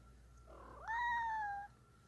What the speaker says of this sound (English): A few too many cats in the house?